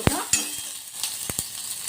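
Soft crackling sizzle of spices frying fast in a steel pan, punctuated by a few sharp metallic taps and scrapes, close by.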